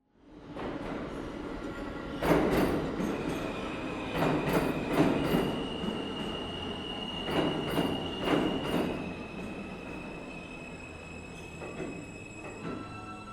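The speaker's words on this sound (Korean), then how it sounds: "천만다행으로 그때 막 열차가 들어왔고 저는 뒤도 보지 않고 올라탔습니다." A subway train pulls into a station with a rolling rumble, rhythmic clatter over the rails and high metallic wheel squeals that rise and fade, loud and close, with no voices.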